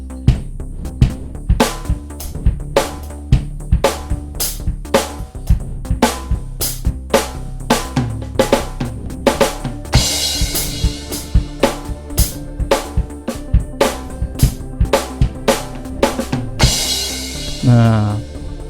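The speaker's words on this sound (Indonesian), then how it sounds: "kalau ini yang suara aslinya nih dari drum akustik" Acoustic drum kit sounds from a Yamaha DTX Multi 12 pad kit play a busy groove of kick, snare and toms with crashing cymbals near the end, loud and close.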